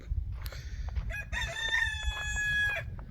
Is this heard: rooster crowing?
yes